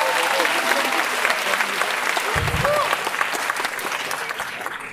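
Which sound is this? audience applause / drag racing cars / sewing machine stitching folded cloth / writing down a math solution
audience applause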